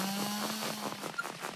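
Chainsaw in the survival video game Long Vinter, a short steady buzzing drone at moderate level, heard alone.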